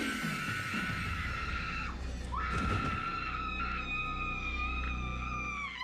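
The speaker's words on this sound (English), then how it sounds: "She has a really good scream." Woman's loud, sustained high-pitched scream from a Buffy the Vampire Slayer episode, breaking briefly after two seconds and then continuing long and piercing over a low rumbling background.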